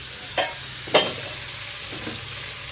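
Fried rice sizzles in a large kadai at home, with a steady frying hiss and two distinct scraping stirs of the spatula early on, then fainter stirring strokes later.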